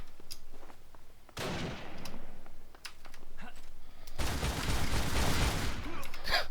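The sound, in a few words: gunfire from Alpha 12 weapon in video game Darkest Days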